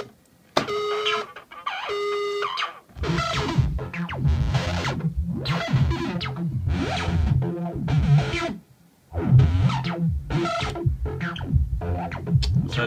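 Gritty, distorted synth bass from a Korg Volca Bass through a Battery Acid effect unit plays a pulsing sequence of repeated notes, with a couple of brief beeping tones at the start and short pauses.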